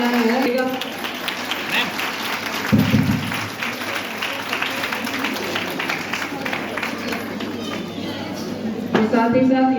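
Audience clapping at an alumnae association annual meet, a steady spread of applause from a crowd, with voices speaking over it and a few louder thumps.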